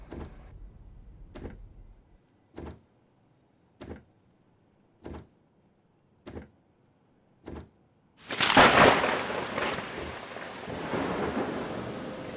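Rumbling thunder with rain in a train driving game on a run from Cologne to Koblenz, arriving as a loud, broad crash after a series of evenly spaced clicks and then trailing into steady rain.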